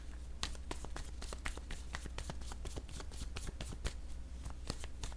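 Deck of playing cards shuffled by hand in a quiet room, with a steady burst of close, crisp riffling flutters running for several seconds and no talk.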